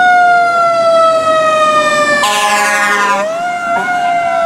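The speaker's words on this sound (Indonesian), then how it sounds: "Ada truk pemadam kebakaran." A toy fire truck's electronic siren wails loudly and continuously, its harmonic tone sliding up and down, with a brief burst of rising pitch partway through and no voices over it.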